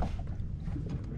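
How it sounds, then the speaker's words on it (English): Water slaps softly and irregularly against a boat hull, low and muffled under a steady rush of wind noise. "Got a little bit of boat slap."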